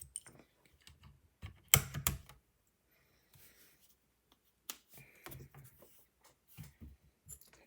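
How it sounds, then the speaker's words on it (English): Newly installed keyboard key caps are pressed, giving scattered sharp clicks and short clattering bursts up close, with quiet gaps between the presses. "Oh my god, that noise, the clicking, it's so satisfying."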